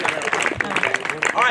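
A crowd claps at a street march for women, with a short patter of applause under a speaker's amplified voice.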